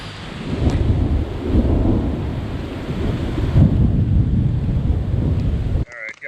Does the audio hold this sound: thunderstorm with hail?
yes